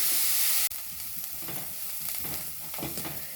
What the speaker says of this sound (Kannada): ಈಗ ಇದನ್ನ ನೀಟಾಗಿ ನಾವು ಎಣ್ಣೆಯಲ್ಲಿ ಫ್ರೈ ಮಾಡಬೇಕು